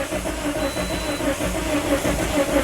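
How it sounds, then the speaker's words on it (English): A Toyota Corolla engine with an immobilizer fault cranks repeatedly with a rhythmic chugging whir that never catches, steady and close for the whole stretch. "the engine cranks, but it doesn't start"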